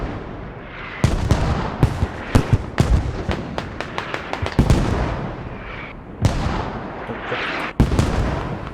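Mortar fire booms through a video game infantry skirmish as a rapid series of sharp blasts and thuds, some clustered and some spaced, ringing out over a continuous rumble of battle noise.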